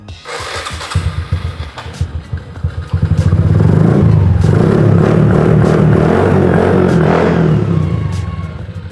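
A Streetcub motorcycle engine cranks with a few uneven turns, then catches and settles into a loud, steady idle and rev, heard up close.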